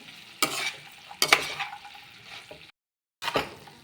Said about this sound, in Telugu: అంతా ఒకసారి కలిపేసి మూత పెట్టేస్తా